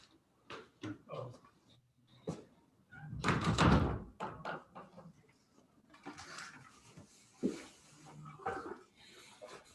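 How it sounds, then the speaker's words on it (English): An office door shuts with a loud thump near the middle, amid shuffling, small knocks and room noise, with faint voices briefly in the background. "I'm going to close the door."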